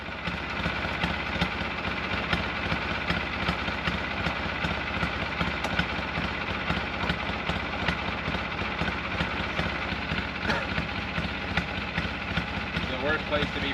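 The engine of an Argo amphibious off-road vehicle runs steadily near a remote off-grid cabin, a constant close mechanical drone with rhythmic pulsing throughout.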